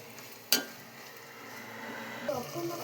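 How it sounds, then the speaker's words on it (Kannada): Okra stir-fry with coriander leaves stirred in a pan, a sharp clink of a utensil against the pan followed by soft scraping and faint sizzling, with another light scrape near the end. "ಕೊತ್ತಂಬರಿ ಸೊಪ್ಪು ಹಾಕ್ಬಿಟ್ಟು ಹಿಂಗೆ ಚೆನ್ನಾಗಿ ಮಿಕ್ಸ್ ಮಾಡಿಕೊಂಡು"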